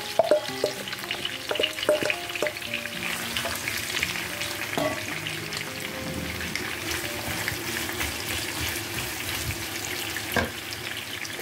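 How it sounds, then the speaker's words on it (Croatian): About 650 grams of finely chopped red onion frying in hot oil, a steady close sizzle with scraping stirs and a few clinks of utensils, no speech. "tu ću da dodam oko 650 grama sitno sjeckanog luka crvenoga"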